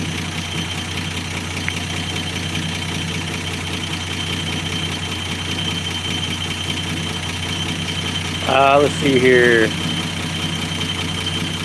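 A steady, rumbling 225 cubic inch slant-six engine of a 1965 Dodge Dart idles close by through a high-flow single exhaust pipe with no muffler, running evenly throughout, with someone speaking briefly near the end.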